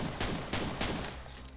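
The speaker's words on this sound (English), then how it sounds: "Yeah, you can shoot 10 bullets." Rapid gunfire in Quake, a quick run of about four sharp, loud shots in close succession with a punchy, low-heavy crack, tailing off at the end.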